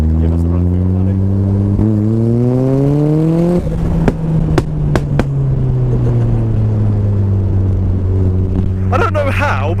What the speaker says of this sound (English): that backfire just managed to echo through the trees outside